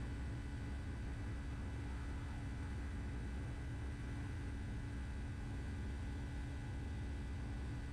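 Boeing 757 airliner taking off from runway 9, a steady, loud broadband jet engine roar with a low rumble, holding constant throughout with no talk.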